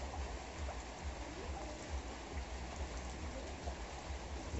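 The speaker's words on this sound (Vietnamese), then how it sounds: "Từ đầu mùa đến nay là có cây mưa này là dai nhất nha bà con." Long, steady rain pours over a mango garden, a dense continuous hiss of drops with no pauses and no voices.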